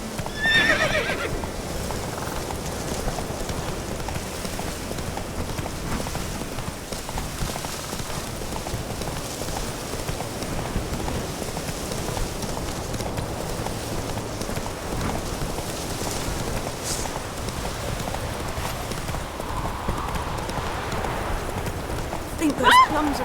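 Roach the horse gallops through rain in The Witcher 3 game, hooves beating steadily for the whole stretch under a constant wash of rainfall, with a few neighs along the way.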